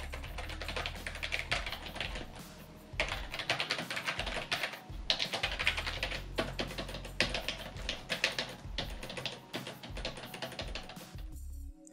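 Soft, muffled keystrokes on a HyperX Alloy Core RGB membrane keyboard patter in quick irregular bursts, close and fairly quiet, with a short pause midway and no voices.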